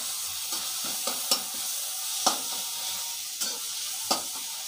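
Mutton masala frying in a clay pot, a steady soft sizzle with a few sharp scraping clicks as it is stirred, close and alone with no talking.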